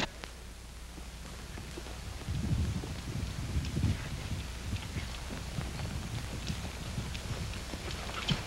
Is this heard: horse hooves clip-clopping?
yes